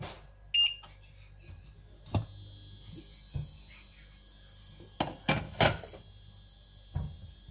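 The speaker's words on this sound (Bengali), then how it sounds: "এখন আমি চুলা অন করে দিব।" A kitchen stove being switched on while cooking khichuri gives a few sharp clicks clustered near the end, with scattered knocks and clatter from the cooking setup, all fairly quiet and close.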